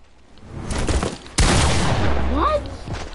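Gunfire from the Fortnite video game: a dense, rapid fusillade of loud shots that peaks into a sharp burst and sustained volley, with a faint voice underneath.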